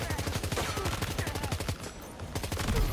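Rapid automatic gunfire in Death Stranding 2, a dense loud burst of shots with a brief gap midway before the firing resumes.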